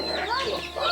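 Busy, overlapping chicken clucks and squawks at close range, with a steady hum of background noise and no clear talk.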